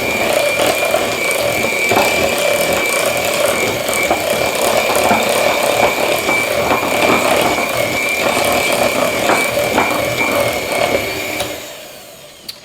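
An electric mixer beats blueberry strawberry cake batter, a steady loud whirring drone with a constant motor whine that runs for about eleven seconds, then stops abruptly, leaving near silence and a single small click.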